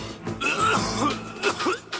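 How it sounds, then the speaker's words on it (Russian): A person coughs several times in quick succession, close and fairly loud, in short harsh bursts with a throat-clearing quality. "Кашель."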